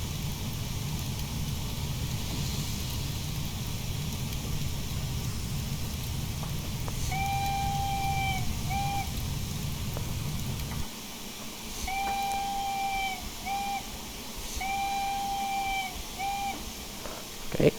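Steam whistle of a Midland Railway Johnson Spinner 4-2-2 locomotive in a train simulator game, sounding a tune of long and short toots over rumbling running noise, which later drops to a quieter hum.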